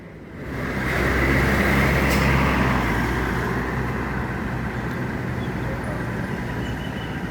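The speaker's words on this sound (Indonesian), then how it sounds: "Ada Sriwijaya Jet Bus 5 lagi standby di terminal Palembang yang rute Palembang Jogja ini" Sriwijaya Jet bus on the Palembang–Jogja route standing at Palembang bus terminal, its engine producing a steady, loud low rumble that swells early and then holds evenly throughout, with no talk.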